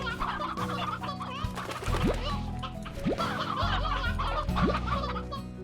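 Chickens cluck repeatedly in the Slime Rancher video game, bursts of clucking and cackling over layered game music and rising effect sweeps.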